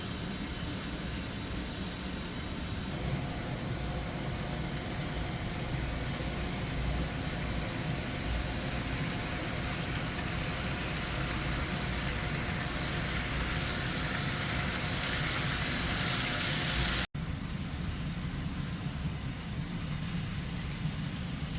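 An HO scale GP50 diesel model locomotive runs laps, giving a steady broadband rolling rumble and whir that holds evenly for about seventeen seconds, cuts off sharply, then resumes a little quieter.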